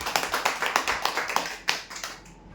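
A small group claps for a winner announced at a weekly prize draw, with irregular, fairly close hand claps that thin out and fade near the end.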